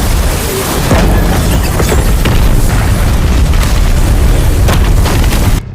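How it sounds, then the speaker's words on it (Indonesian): Loud, continuous booming roar of explosions that fills the whole clip, rumbling and crashing without pause before cutting off abruptly. "Dua ledakan memekakan telinga mengguncang dimensi tersebut."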